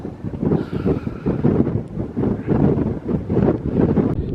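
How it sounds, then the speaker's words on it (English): Strong wind on a cold mountain top buffets the microphone in heavy, rumbling gusts that swell and fade repeatedly, loud and close, with no voices. "It's far too cold and windy up here"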